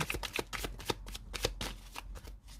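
Tarot cards being shuffled and drawn during a reading, a close, steady run of quick papery riffles and flicks that repeat through the clip with no voices.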